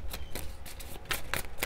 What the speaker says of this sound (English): So let's make sure to shuffle properly.